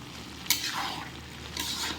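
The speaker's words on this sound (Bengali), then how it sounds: "আপাতত খিচুড়িটা রান্না করতেছি অনেক সুন্দর করে" Khichuri cooking in a pot makes a soft, steady simmer with two short sizzling stirs about a second apart, heard close and fairly quiet without any talking.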